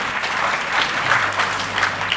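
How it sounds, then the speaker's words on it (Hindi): An audience in a lecture hall claps for a student at a banking guest lecture, a dense, steady round of applause from many hands, close and continuous throughout without talk. "संदीप जी के लिए क्लैप प्लीज़।"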